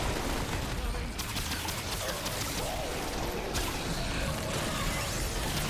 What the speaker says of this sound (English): Our rune pistol does break them.